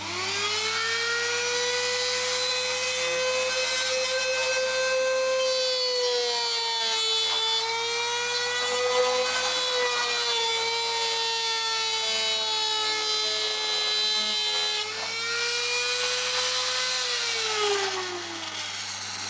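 A trim router cuts a dado into a wooden board in a loud, continuous high-pitched whine whose pitch dips and rises slightly as it bites into the wood, with no voices.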